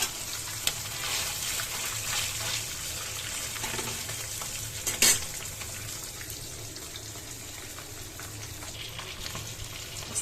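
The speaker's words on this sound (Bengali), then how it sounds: "এখন মাছ ভাজিটা করবো" Fish fries in oil, crackling and sizzling steadily in a pan, a soft continuous frying hiss with an occasional louder pop or clatter partway through.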